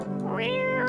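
A video game cat gives one short, clear meow, close and loud, heard alone with no speech over it.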